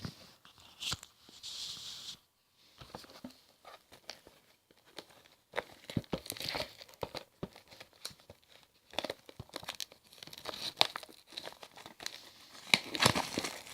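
Plastic wrap crinkles and tears as a Blu-ray box set of Metal Hurlant Chronicles seasons 1 and 2 is opened, with close, irregular bursts of crackling and ripping and brief pauses between.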